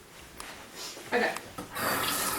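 Cooked lobsters are rinsed under a running kitchen tap, water splashing and hissing in uneven bursts before a fuller, steady stream takes over near the end.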